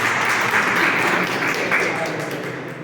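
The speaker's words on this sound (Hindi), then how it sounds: "एक बार जोरदार तालियां हो जाए विवेक सर के" A school audience claps loudly for Vivek Sir at the close of an adolescence education session, a thick, close burst of many hands that gradually tapers off over a few seconds.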